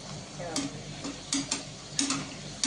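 Bhatura dough frying in hot oil in a small kadai, with a steady low sizzle and a few brief bursts of bubbling and spattering.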